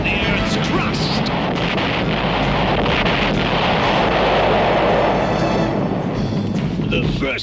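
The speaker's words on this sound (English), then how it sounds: "It's a series of explosions designed to crack the Earth's crust." A series of explosions meant to crack the Earth's crust, from the 1986 animated film Inhumanoids, rolls out as a continuous deep, roaring rumble with no breaks, loud and dense from start to finish.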